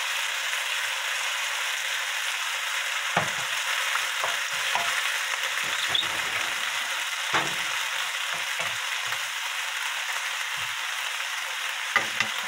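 Small pieces of monkfish are stir-fried in a pan for a braised monkfish dish, making a steady bright sizzle. Occasional scraping stir strokes break through it, and no one talks.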